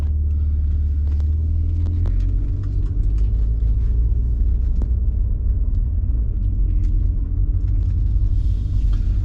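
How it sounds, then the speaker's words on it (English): Steady low rumble of a 2003 Mitsubishi Verada Xi on the road, heard from inside the cabin as a continuous engine and road drone with faint ticks and no voices. "going to go for a little drive in the Verada"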